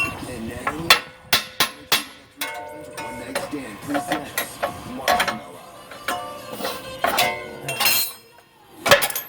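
A hammer repeatedly strikes a Subaru Forester control arm to work it free, with sharp metallic bangs in uneven bursts, loud and close, with shorter clinks and clanks in between.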